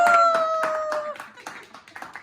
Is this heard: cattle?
no